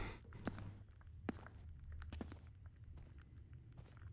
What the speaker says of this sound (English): And again we got footsteps.